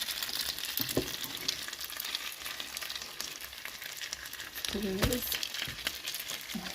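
Steady sizzling of filled pastries (pirozhki) frying in a hot pan, with a few clinks and scrapes of a utensil, close by and moderately quiet.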